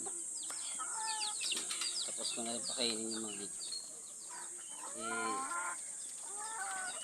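Farm chickens being fed with leftover rice give off soft clucks and squawking calls in scattered bursts nearby, while someone talks over them.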